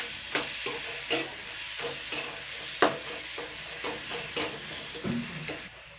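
Egg curry masala in a pan, just loosened with a splash of water, sizzles and hisses steadily while a spoon scrapes and stirs in irregular strokes, close and fairly loud, with no talking.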